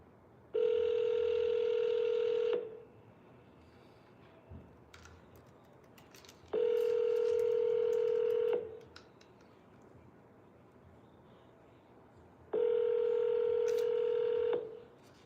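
A telephone tone sounds on a call to a for-sale-by-owner listing: three long, steady electronic tones about two seconds each, evenly spaced with quiet gaps between them.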